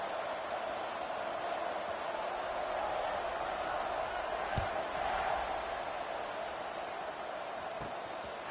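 A football stadium crowd roars continuously after a scoring drive, a dense wash of distant cheering and voices that stays loud throughout, with a few thuds underneath.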